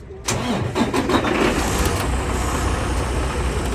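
A Class A truck engine turns over and catches, then runs at a steady, rumbling idle close by.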